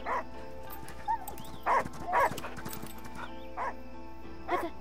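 In the video game Last Day of June, a dog barks in short, separate yelps, about five of them spaced across a few seconds, moderately loud over a quiet background hum.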